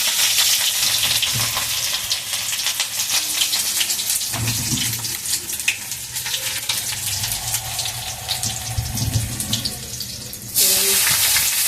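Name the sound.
garlic frying in hot oil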